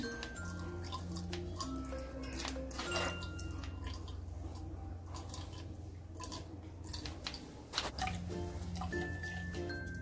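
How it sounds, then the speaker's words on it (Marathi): Wet squishing and dripping as grated carrot pulp is pressed through a strainer with a spoon to extract juice, with clinks of the spoon against metal throughout. "आता आपण अशा गाळणीमध्ये हे टाकून घेऊया आणि छान आपण चमच्याने असं व्यवस्थित याचं दाबून असं पाणी काढून घेऊया गाजराचं"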